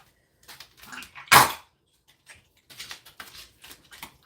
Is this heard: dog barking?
yes